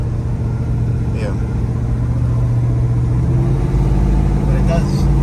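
A 1972 Chevrolet Chevelle with a 454 big block V8 drives along, recorded from inside as a steady low engine rumble and road noise, with people talking over it.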